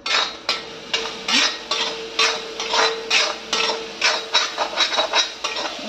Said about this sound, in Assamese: সেইফালে ভাজিখিনি আকৌ এবাৰ মই লৰাই দিওঁ।